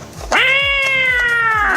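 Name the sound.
voice imitating a cat meowing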